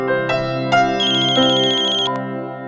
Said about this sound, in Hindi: मेरा फोन कहाँ है? अरे आवाज यहीं से आ रही है तो यहीं कहीं होगा।